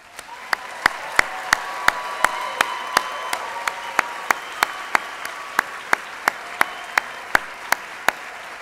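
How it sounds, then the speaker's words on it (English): A crowd applauds a graduating class of 2018 at a graduation ceremony, with steady dense clapping and sharp individual claps ringing out regularly over it throughout. "How about another round of applause?"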